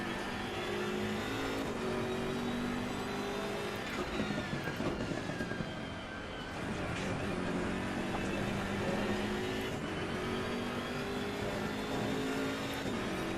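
GT3 race car in the Assetto Corsa Competizione racing game pulling away from the pits at Imola, engine droning and rising through the gears with shift dips, a steady loud mechanical roar with no talk.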